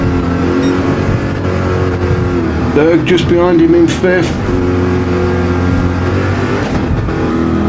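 Group 3 race cars in Gran Turismo 7 drone and rev together through the opening lap's first turns at Tokyo, a dense, steady engine roar with rising pitch sweeps, under continuous excited commentary.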